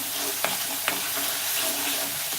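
Onion frying in a pan for vangi batata rassa bhaji, a loud continuous hiss of sizzling oil with two sharp utensil taps near the start.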